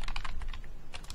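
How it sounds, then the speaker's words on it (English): Quick bursts of loud keystrokes on a computer keyboard, a short run of clattering taps with a brief pause before another flurry, close and alone. "Loud typing."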